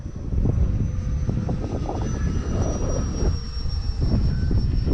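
An FMS Futura V3 RC jet plane flies in windy, rough conditions, its ducted fan a steady loud whine. The engine note rises and falls with throttle, and buffeting wind fills the low end.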